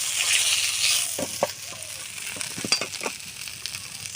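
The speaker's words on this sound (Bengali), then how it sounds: "মাছগুলো সুন্দর করে ভাজা হয়ে গেছে" Tilapia fish frying in oil in a village kitchen, a steady soft sizzle with brief clinks and scrapes of a utensil, close and moderately loud, no talk.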